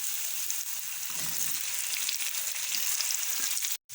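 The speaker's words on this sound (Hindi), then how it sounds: "और अब हम इसमें साथ ही शामिल कर देंगे टमाटर।" Onions frying in a pan with ginger garlic paste as tomatoes are added, giving a steady, close sizzle that continues throughout and cuts out briefly at the very end, with no voices.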